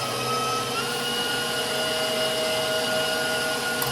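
An electric mixer whirs in a constant, loud drone as it beats salt, vanilla and whole milk into a batter, steady throughout with no voices.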